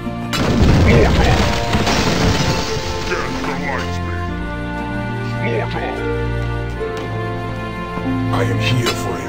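Mortar fire in the strategy game Warlords Battlecry 3: a heavy, loud booming burst comes early, then fades into sustained droning tones and game sounds, with voices speaking throughout.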